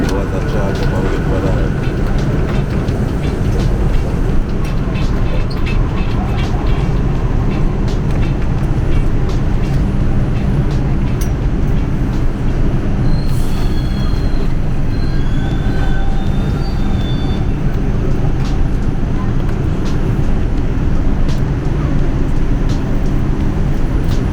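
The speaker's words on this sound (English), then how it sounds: "This is a Manhattan-bound 2 train." A loud New York City subway train, a Manhattan-bound 2 train, rumbles steadily the whole time. Faint wheel squeals are heard, and an announcement-like voice speaks under the roar.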